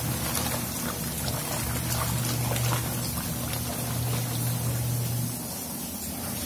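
Water pouring and splashing steadily while underwear is rinsed by hand in a bucket during laundry, a continuous close gushing sound with a low hum underneath.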